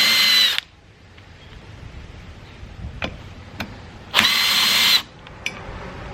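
A power drill drives the sprocket screws back into a go-kart drum brake assembly. It gives two short, close whirring bursts with light clicks and ticks in the quiet gap between them.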